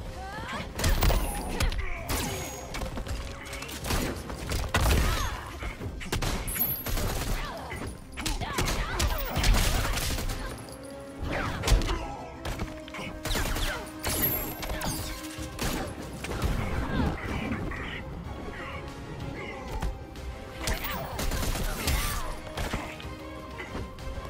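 Deadshot firing guns in the fighting game Injustice 2, with loud bursts of gunfire mixed with heavy impacts, thuds and crashes in a fast, irregular fight sequence.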